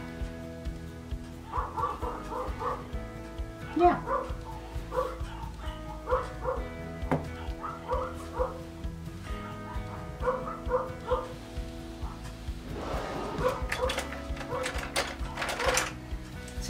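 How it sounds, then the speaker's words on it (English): Several dogs barking excitedly outside a house in repeated yappy bursts that continue for most of the stretch, moderately loud and slightly distant, with a brief spoken word near the start. "Oh, my dogs are going crazy."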